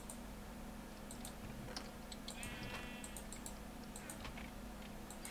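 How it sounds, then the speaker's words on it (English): A sheep in the Minecraft Feed The Beast modpack gives a single clear bleat midway through, heard over faint keyboard tapping and mouse clicks with low steady background noise. "And the tiny sheep has grown up."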